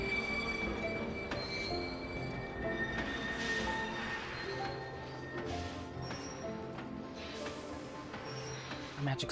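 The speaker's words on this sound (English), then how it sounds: "A magic school bus train." A train rolls past in the video game Kingdom Hearts HD 2.5, its wheels squealing and screeching in drawn-out tones over a steady rumble, with a busy game soundtrack around it.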